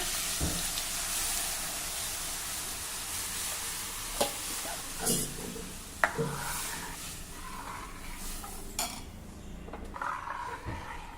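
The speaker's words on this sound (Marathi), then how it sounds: "आता यामध्ये हे ताक घालूया" Buttermilk goes into a hot pan for Maharashtrian kadhi, bringing a steady sizzle and hiss with scattered clinks and scrapes of a utensil against the pan.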